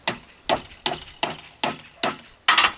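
A small hammer strikes a metal hole punch to knock holes through sheet metal while a storage box is made, giving seven sharp, evenly spaced metallic blows about half a second apart, close and loud with ringing decay.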